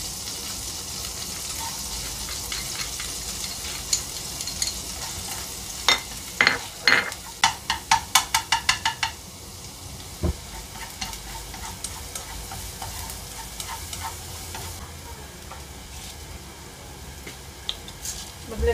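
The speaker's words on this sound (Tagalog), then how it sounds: "Lalagay na natin yung garlic natin." Plenty of garlic sizzles steadily in a pan for garlic pepper pork, with a burst of sharp rhythmic spatula scrapes and clinks midway and occasional later knocks, close and fairly quiet.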